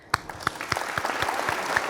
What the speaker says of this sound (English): we need some little clapping sound